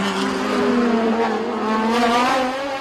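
Lamborghini and Ferrari race cars battling for third and fourth place in the 2019 TSS series, engines droning steadily at high revs with rising and falling pitch, a continuous loud roar throughout.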